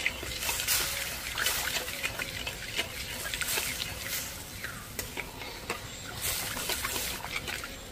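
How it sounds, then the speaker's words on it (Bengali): Water poured over sugar in a pan to make sugar syrup, a close, continuous splashing trickle with irregular surges and light stirring noise, no voices. "আর যতটা চিনি নিয়েছিলাম ঠিক ততটাই আমি জল দিয়ে দিচ্ছি।"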